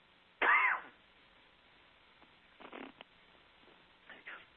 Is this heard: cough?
yes